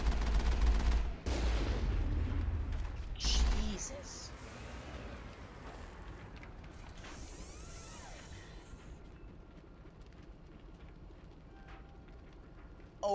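Gunfire in the Mass Effect video game, with a loud burst of shots in the first few seconds followed by quieter game sounds while someone talks over it.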